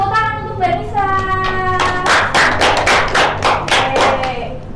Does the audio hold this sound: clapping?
yes